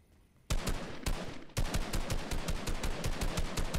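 Rapid gunfire in a Fortnite-style arena shooter game, a sudden opening shot followed by a steady fast burst of sharp cracks in an even rhythm, loud and close with no talking.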